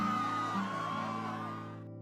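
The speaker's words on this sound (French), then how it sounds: "Les habitants, paniqués, fuient en désordre, leurs cris de terreur résonnant dans l'air." Cartoon village crowd in a burning village cries out in panic, a dense, sustained wash of overlapping shouts and wails with a rising high tone, gradually fading out.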